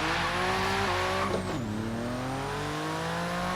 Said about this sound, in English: Oh, the turbos.